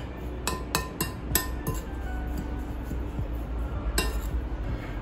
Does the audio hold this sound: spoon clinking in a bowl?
yes